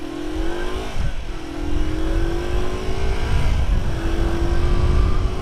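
A Kawasaki EL250 motorcycle engine revs close by, its pitch climbing and dropping through several throttle blips over a rough, rumbling idle, loud and with no talk.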